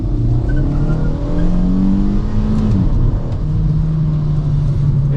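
A Kia Forte GT in sport mode revs hard, its engine and exhaust swelling and falling in a loud, steady growl with a brief dip midway, heard up close with no talking.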